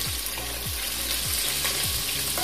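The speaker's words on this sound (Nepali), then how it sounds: "प्याजलाई थोरै फ्राई गर्ने।" Onion fries in a pan for chicken chow mein, giving a loud, continuous close sizzle while a utensil scrapes and stirs in a regular rhythm, with no voices.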